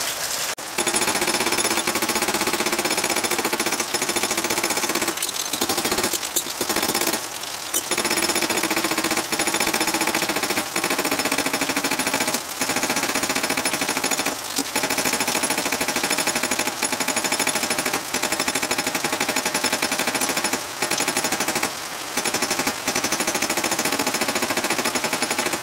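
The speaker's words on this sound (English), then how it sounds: "then hit it with the flat hammer to get this thing back flat" Continuous rapid metallic hammering of a metal strike plate with a flat hammer rattles on for a long stretch, loud and dense, broken by a few brief pauses.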